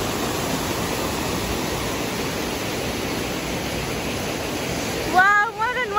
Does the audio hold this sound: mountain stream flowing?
yes